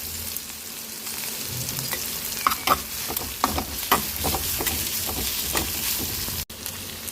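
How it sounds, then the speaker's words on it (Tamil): Onions frying in a pan with ginger-garlic paste, stirred with a utensil: a steady close sizzle runs throughout, broken by repeated scraping stir strokes, with no voices. "இப்போ ஆனியன் நல்லா வதங்கிட்டுருக்கு. இந்த டைமில் இஞ்சி பூண்டு பேஸ்ட்டு சேர்த்துக்கலாம்."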